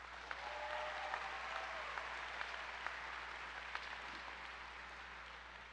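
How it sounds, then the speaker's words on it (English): An audience at a virtual academy graduation applauds the graduating class. The clapping is steady and sustained but faint and distant, with a few sharper claps standing out and no voices. "So everybody, please give them a round of applause."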